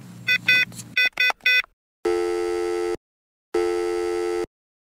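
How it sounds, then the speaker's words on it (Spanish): Quick dialing beeps give way to two long, steady telephone ringback tones separated by silence, clear and close. "Quizás le vamos a llamar por teléfono."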